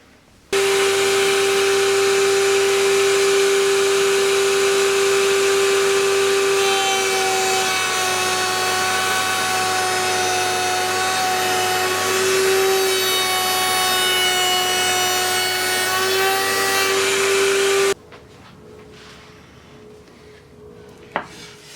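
A router-style biscuit joiner cutting slots for number 10 biscuits in wood, a loud continuous machine whine with a steady tone for about seventeen seconds, then a sudden stop leaving quiet room noise and a small knock.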